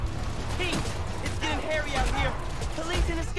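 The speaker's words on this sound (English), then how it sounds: "Police and escapees are shooting it out!" Police and escaped prisoners trade gunfire in the game Spider-Man: Miles Morales, a steady clatter of shots running beneath continuous talking.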